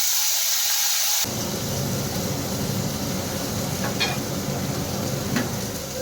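Boiled carrots and chopped ginger sautéing in butter in a kadai, a dense continuous sizzle that starts abruptly and holds steady, with a couple of faint clinks, no voices.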